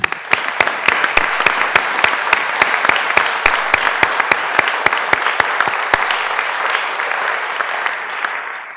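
Applause at a public commission meeting welcoming newly elected commissioners: a room of people clapping in a steady, rhythmic patter that holds strong for several seconds, then thins and fades out.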